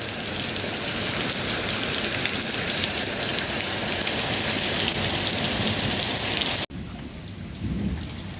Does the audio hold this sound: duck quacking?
no